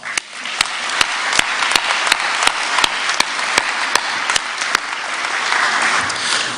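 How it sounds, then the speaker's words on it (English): Graduation audience at a commencement ceremony giving a sustained round of applause, dense even clapping filling the hall, punctuated by a few sharp individual claps close to the microphone. "Let's give them a round of applause"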